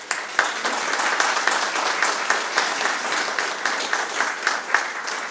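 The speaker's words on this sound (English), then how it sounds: "I always think it's funny when people applaud before they heard anything" A church audience applauds a guest speaker at a Come Holy Spirit gathering, with steady, dense clapping that holds at an even level for about five seconds without a break.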